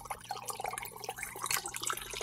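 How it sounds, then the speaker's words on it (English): Water poured into a vessel for brewing a simple dry mead, a close, bubbly splashing trickle with scattered drips and gurgles throughout. "Now, I'm going to put more water in."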